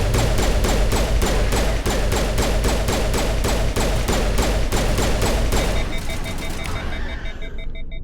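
Pistol fire in Mass Effect Legendary Edition, a loud, fast, evenly spaced string of shots for several seconds, ending in a fading electronic whine.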